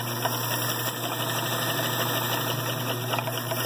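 A vintage Hitachi Century Futura DeLuxe sewing machine, freshly oiled, runs a test stitch at average stitch length with the presser foot down, giving a steady, even mechanical whir with faint rhythmic clatter throughout.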